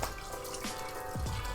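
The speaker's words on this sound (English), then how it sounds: "I have the water running" Tap water runs over a sink while fake blood makeup is rinsed off, producing a faint continuous trickle with a few soft drips and splashes near the end, with no talk.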